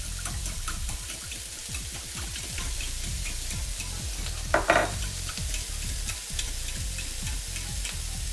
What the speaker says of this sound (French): je vais délayer mon fumet de poisson dans à peu près 30 centilitres d'eau